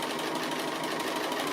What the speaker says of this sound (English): I'll be stitching on the line that I've drawn with that yellow marker there.